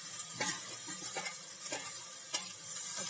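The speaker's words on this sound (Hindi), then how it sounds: "इसे बराबर धीमी आंच में भूनेंगे।" Urad dal paste roasting with spices in a pan over low heat gives a steady faint sizzle, with soft stirring scrapes recurring every half second or so.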